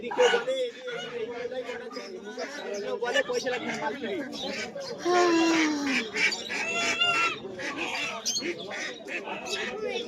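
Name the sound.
young geese at a village market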